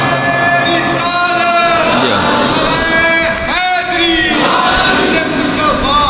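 A large crowd chants a religious slogan in unison at a Punjabi devotional gathering, loud and continuous with voices swelling and falling in waves throughout.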